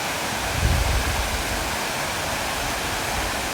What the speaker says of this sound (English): Don't know if you could hear me over the rudeness of the water being too loud